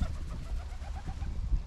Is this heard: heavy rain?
no